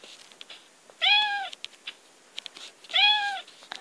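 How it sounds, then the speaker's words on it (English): A cat gives two clear, close meows about two seconds apart, each rising then falling, with faint scattered household clicks in between and no voices. "Shoo kitty."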